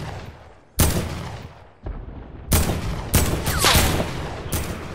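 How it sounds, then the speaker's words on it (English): Loud gunshots ring out in a console shooter video game match, a sharp crack near the start followed by several more bursts of fire in quick clusters, echoing and layered over a busy battle background. "Oh, they got a sniper. They just sniped that way."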